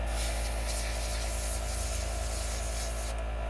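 A Gaahleri Ghad 39 airbrush sprays light-colored paint in a continuous, steady hiss, close by and uninterrupted for the whole stretch.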